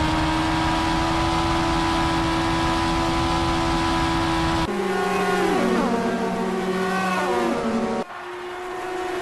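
Formula 1 cars at the Spanish Grand Prix, a Red Bull overtaking a McLaren, high engine whines holding steady then sweeping down in pitch as the cars pass, loud and close with abrupt cuts between shots.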